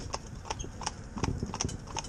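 A pair of horses driven in tandem trot across a yard, their hooves clip-clopping in a quick, uneven rhythm at close range with no talk.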